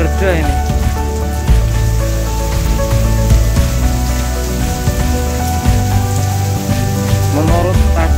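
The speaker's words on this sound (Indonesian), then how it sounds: "Ini hujan belum reda-reda ini." Heavy rain pours down steadily in a dense, continuous hiss over a flooded school grounds in Purworejo, with a low droning hum running underneath and no voices.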